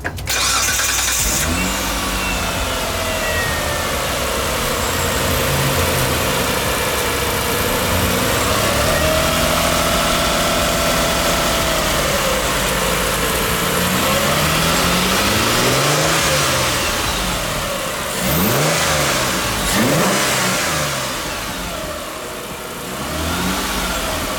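A 2004 Mitsubishi Eclipse 3.0 V6 fitted with a cold air intake idles and then revs up several times, loud and close, with the engine note rising and falling in repeated pulls.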